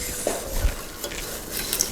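Popcorn is stirred into hot brown caramel in a pot, a close, soft sizzle with scraping and light clinks of the utensil, steady and without voices.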